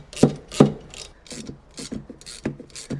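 Wrench on the passenger armrest bolts of a Can-Am Spyder F3, heard as a series of close, sharp ratcheting clicks in uneven bursts, with a couple of louder strokes at the start.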